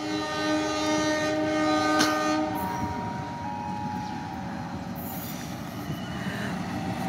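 Two Indonesian passenger trains, KA Papandayan and KA Tawang Jaya, pass together at a station: a loud, steady rumble of rolling cars with a sustained horn blast early on, fading into continuous wheel noise.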